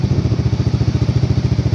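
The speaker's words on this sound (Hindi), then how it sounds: "बिना एग्जॉस्ट की आवाज़ आ रही है, बूम बूम" A Bajaj Dominar 400 motorcycle fitted with a half exhaust idles close by, its deep engine thumping in a steady, rapid pulse with a clattery edge throughout.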